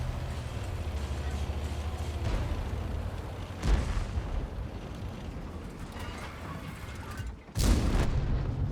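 Heavy booming tank cannon blasts in the video game Erlenberg, one sharp report near the middle and a louder burst near the end, over a steady low rumble.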